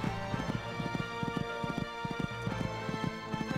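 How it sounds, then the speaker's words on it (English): A horse gallops and jumps in a horse riding video game, its hoofbeats a fast, steady clip-clop rhythm that runs loud and continuous throughout. "Going along at a good gallop."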